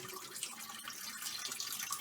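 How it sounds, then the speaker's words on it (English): Water pours out of a container of soaked sea moss into a strainer, a steady, close splashing stream with no talk. "All right, I'm gonna pour out that water."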